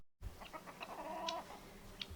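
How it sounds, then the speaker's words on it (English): A chicken clucks several times close by, short soft calls with one drawn-out note in the middle, over a quiet background. "So this is one of the chickens."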